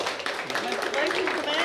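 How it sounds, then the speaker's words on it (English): Scattered applause from the audience at a state quiz bowl championship, brief clapping heard under a voice speaking over it. "Round of applause."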